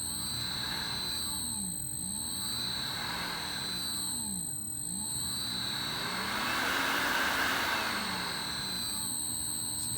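A 1hp NEMA 56C smart motor spinning up, giving a steady high-pitched electric whine with humming tones that swells louder and rougher near the end.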